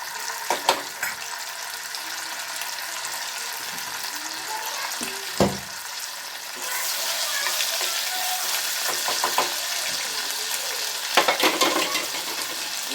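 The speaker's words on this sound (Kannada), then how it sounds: "ಇವಾಗ ಶುಂಠಿ ಬೆಳ್ಳುಳ್ಳಿ ಪೇಸ್ಟ್ ಹಾಕ್ತಾ ಇದ್ದೀನಿ" Ginger garlic paste sizzles and fries in a hot pan while making gravy for paneer tikka masala, a steady close crackle that swells louder partway through, with occasional stirring knocks.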